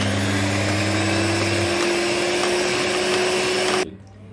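An electric mixer whirs steadily as it blends 400 grams of yogurt with 100 grams of ice cream powder, a loud continuous motor drone that cuts off abruptly near the end, leaving a quiet hum.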